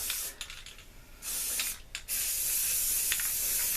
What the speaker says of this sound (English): See, we got some good Rust-Oleum high performance enamel.